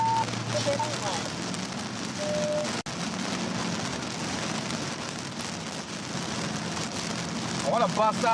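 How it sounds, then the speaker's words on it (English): Heavy rain drums steadily on a storm-chasing vehicle during a tornado chase, a dense continuous patter close around the cabin, with a brief sharp click and faint radio or voice sounds under it. "I want to bust out of this rain."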